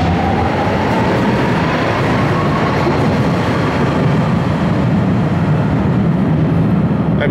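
A St. Louis Metro light rail train runs past in the downtown underground, a loud continuous rumble and rail roar with clattering wheels and a faint rising whine, close by throughout with no talking.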